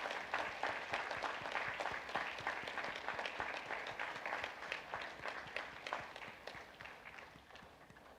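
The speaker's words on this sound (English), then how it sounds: "Let's give them our warmest round of applause." An audience at a university convocation ceremony gives sustained, steady applause, dense clapping from a large hall crowd that slowly tapers toward the end.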